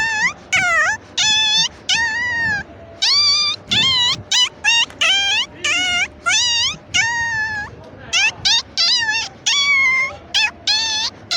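A man imitates a cat, producing a long series of loud, wavering meows and wails in close succession, each rising and falling in pitch, close to the listener over a faint background.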